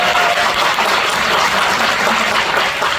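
Dense, steady applause from a lecture audience, loud and continuous throughout, cheering on an unnamed listener during an economics talk.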